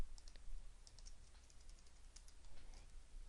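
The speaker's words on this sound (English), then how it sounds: "in the for loop, I am typing employees and then a period" Soft, quick keystrokes on a computer keyboard tap out code in short irregular bursts, faint and close in a quiet room with no speech.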